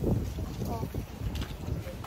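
Strong wind buffets the microphone outdoors as rain moves in, a steady low rumble and roar running throughout, with voices talking over it.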